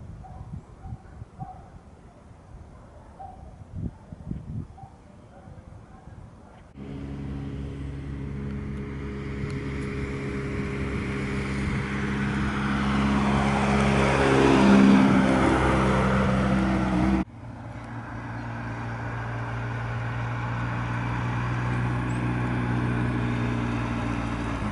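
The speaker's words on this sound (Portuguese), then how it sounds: "Kátia tá na pista de testes, testando o carro da dona Ana." A car driving on a test track during a test drive, its engine loud and steady, swelling as it passes close and then dropping abruptly to a lower continuous drone.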